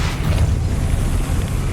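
A Depulso spell cast in Hogwarts Legacy gives a loud, sustained rumbling boom with dense low-end energy and a steady roar through its full length, no voices present.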